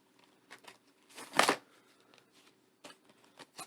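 Paper cash envelopes being handled and pulled from a section, with scattered rustles and shuffles and one louder crinkling burst in the middle, close and quiet with gaps between.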